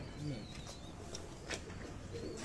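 A domestic pigeon on a rooftop gives a few soft, low coos, faint and intermittent under light background noise and occasional chirps of other birds.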